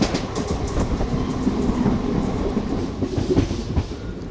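The 07664 Jalna-Parbhani Festival Special rumbles steadily as it runs into Parbhani Junction, wheels clicking in an irregular clatter over a dense, close rolling roar with no voices.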